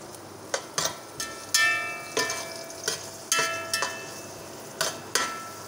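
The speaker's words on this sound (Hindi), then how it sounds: "ये प्याज हमारी हो रही है व्यूअर्स।" Onions fry in a pan with whole garam masala spices, a soft sizzle broken by sharp clinks and taps of a utensil stirring against the pan at irregular intervals, close and fairly quiet.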